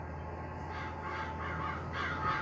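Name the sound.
crows cawing over a field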